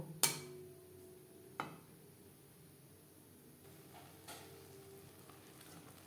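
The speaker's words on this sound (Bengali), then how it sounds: "এভাবে নাড়াচাড়া করতে থাকবো যাতে তলা লেগে না যায়" Milk thickening into mawa while being stirred continuously so it will not stick to the pan. Faint low bubbling runs beneath a few distinct scraping strokes of the spatula, spaced seconds apart, with no speech.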